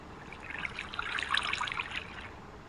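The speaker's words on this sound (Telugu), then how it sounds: "దానిపైన వాటర్ బకెట్." Water poured from a bucket in the Minecraft video game onto a fence, a steady bubbling trickle that swells in the middle and runs for nearly three seconds, heard alone without talk.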